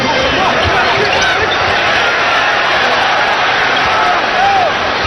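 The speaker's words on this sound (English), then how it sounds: "Crowd trying to help Yao out." Basketball arena crowd at a Sacramento Kings at Houston Rockets NBA game, a steady, dense roar of cheering spectators urging on Yao, filling the whole stretch without letup.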